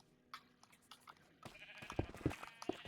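Sheep in Minecraft bleat in a series of short, rising calls, sparse and faint at first and then louder and closer together, with no talk over them.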